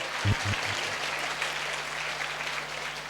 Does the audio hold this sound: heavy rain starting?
no